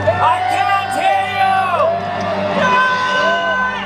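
A crowd at a Disney's Hollywood Studios stage show whoops, yells and shouts in loud overlapping bursts, with an amplified voice and music over the cheering throughout.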